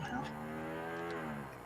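A jammed lid on a container squeaks in one long, drawn-out, moo-like groan, loud and close, fading slightly at the end.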